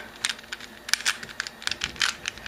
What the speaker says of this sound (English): I'm going to scramble this one up